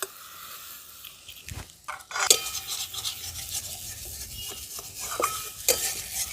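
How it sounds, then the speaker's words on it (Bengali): A spoon stirs salt, turmeric, slit green chillies and frying tomatoes together in a cooking pan, with scraping, clinking strokes and a soft sizzle underneath. "সব কিছু একসঙ্গে ভালোভাবে আমি মিশিয়ে নিচ্ছি"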